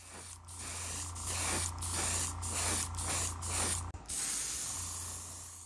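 Spray painting a Revell Pontiac Fiero GT scale model with Kaliedo auto paint thinned with thinner: six or seven short airbrush hisses in a steady rhythm, each burst about half a second, with a longer continuous hiss at the end, close and fairly loud.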